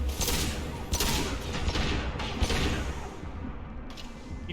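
Several loud gunshots in Mass Effect 2 on the planet Tuchanka, fired in separate bursts a second or so apart, each with a booming crack over a steady background rumble.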